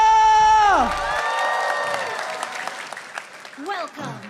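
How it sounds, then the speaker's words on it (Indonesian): Arena crowd at an MPL Indonesia Season 11 esports match between Onic and Alter Ego applauds and cheers loudly, a dense sustained roar with whoops, while excited commentators talk over it. "minta tepuk tangannya!"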